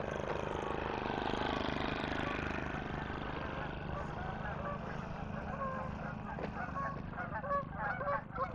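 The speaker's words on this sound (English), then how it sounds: "More geese." Geese honking by a city lake on a summer walk in Regina: faint, repeated nasal honks that become clearer toward the end, set against steady outdoor background noise.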